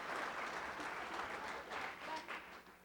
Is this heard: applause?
yes